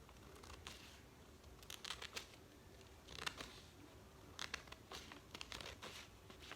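Scissors cut a drafted basic skirt pattern out of paper, starting at the hemline. Quiet, intermittent snips and rustling crinkles come in short bursts, close to the microphone, with no talking.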